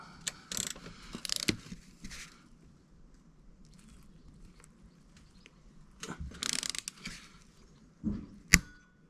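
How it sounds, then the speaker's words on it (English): A torque wrench tightens the sprocket nut on a Honda Grom during a chain and sprocket job, giving scattered sharp ratcheting clicks in short bursts, close and fairly quiet, ending in a distinct final click. "when you're torquing something up, the nut has to be moving and then it has to click through"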